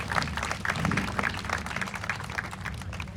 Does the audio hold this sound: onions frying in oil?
no